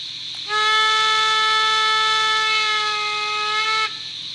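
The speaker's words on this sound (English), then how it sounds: "Long whistle." A Märklin BR tank engine model train, 39648, blows a single long, steady whistle for over three seconds with a rich, harmonic tone, near and clear, alone.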